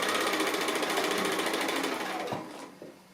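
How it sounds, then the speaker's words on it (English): A sewing machine stitches a partial seam in a quilt block at regular stitch length, a loud, close, steady whir that winds down and stops near the end, with no talk. "we're just going to sew about halfway along the square, so a couple of inches or so"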